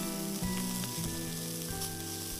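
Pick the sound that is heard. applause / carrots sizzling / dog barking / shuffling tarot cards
carrots sizzling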